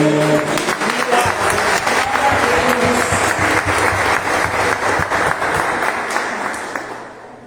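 A church congregation applauds during a worship service, with dense, sustained clapping from a full room that holds steady before fading out over the final second.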